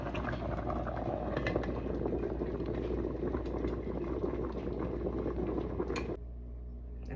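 A pot of dumplings boils hard in water thickened with coconut milk, a dense steady bubbling that stays loud and close before dropping off abruptly near the end.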